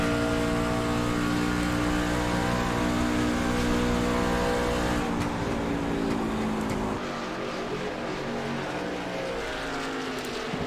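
Stock race cars roar together in a short-track Thunder Series event in a sim racing game at Charlotte, engines droning loud and continuous with layered revs and a pack sweeping past, easing slightly near the end.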